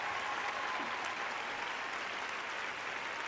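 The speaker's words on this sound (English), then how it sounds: "Like the applause." Steady applause fills the whole stretch at an even, dense level, with no voices breaking through.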